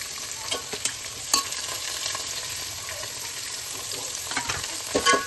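Four finely chopped onions sizzle in hot oil with large and small cardamom for a chicken dum biryani, giving a steady crackling hiss broken by occasional stirring clatters, moderately quiet and close, with no talking.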